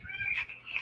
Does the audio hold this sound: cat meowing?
yes